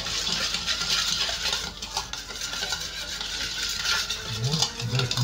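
A spoon stirs vinegar in a bowl to dissolve seasoning before oil goes in, giving a continuous close scraping and clinking swirl with a soft liquid wash, heard alone without talk.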